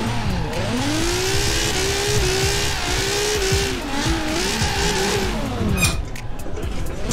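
Drift car in the Forza Horizon racing game slides with its tires squealing steadily and loudly under a revving engine whose pitch rises and falls throughout, with no voices.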